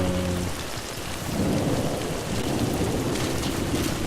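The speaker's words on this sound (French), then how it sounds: "Ah ce orage, magnifique." A thunderstorm in the video game Metal Gear Solid V: steady heavy rain hisses over low rumbling thunder that swells and lingers, loud and continuous throughout, with no voices.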